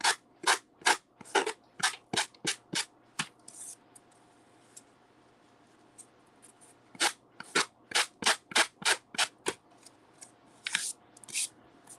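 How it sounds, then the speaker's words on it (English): A Dollar Tree sanding block rubs at a down angle against an Easter craft piece in short, scratchy strokes, coming in quick bursts with a pause midway before a second run of rapid strokes. "we're just going to take sanding block from the Dollar Tree at a down angle"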